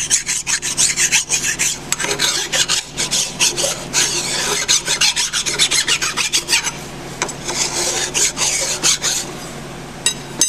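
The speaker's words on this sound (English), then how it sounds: "I'll take any burrs or raised metal off this flange." Hand file rasping burrs and raised metal off the flange of a Ford 641 tractor hydraulic pump, loud close rapid strokes in uneven bursts, with no talk.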